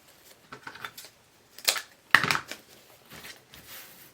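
Scissors snip wreath ribbon to dovetail its ends, making a few quiet, close crisp cuts with soft handling rustles between them.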